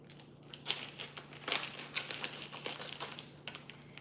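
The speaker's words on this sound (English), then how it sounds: "we're just going to cut the package to make it really easy" Plastic steak packaging cut open at a kitchen sink: close crinkling and snipping, with a cluster of sharp rustles and short crackles, fairly quiet over a faint hum.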